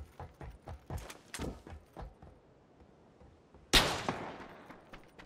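Gunfire in a squad-based shooter game: a string of sharp, separate shots in an uneven rhythm, a pause, then one much louder blast whose echo trails off.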